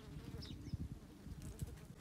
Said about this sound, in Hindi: मक्खी मक्खी